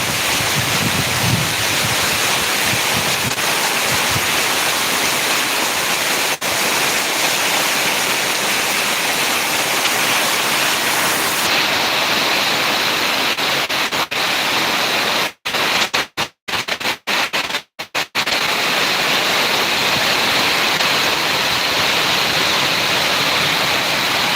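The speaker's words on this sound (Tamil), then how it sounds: "சரியான மழை நண்பா" Heavy rain mixed with wind pours down steadily as a loud, dense broadband roar, with a few brief breaks in the noise in the middle and no voices.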